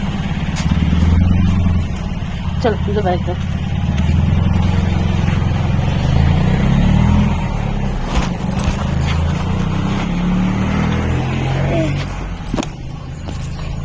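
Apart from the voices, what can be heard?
car approaching on road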